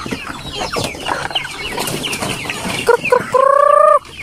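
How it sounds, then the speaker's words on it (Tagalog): Chickens cluck and squawk amid busy farmyard noise, ending with a loud drawn-out bird call near the close. "Mukibot lang mga manok wa."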